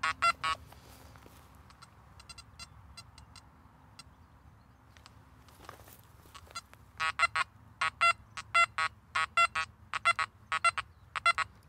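Makro Gold Kruzer metal detector sounding repeated short beeping tones that signal a coin on a nail board test, starting as a few bursts, fading, then returning as a rapid, regular series of loud beeps.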